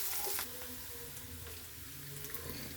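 Onions sauté in a pan with a quiet, even frying hiss and light crackle, a low hum running underneath, close and with no talking.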